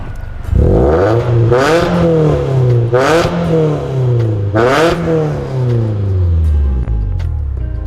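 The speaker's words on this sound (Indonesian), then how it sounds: "kita mau cek suara knalpotnya" Exhaust of a modified Mitsubishi Lancer EX, a loud engine blipped up and down about four times in quick rhythmic revs before settling into idle, recorded close.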